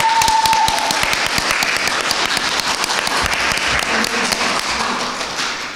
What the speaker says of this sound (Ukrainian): Давайте ще раз поаплодуємо всі разом.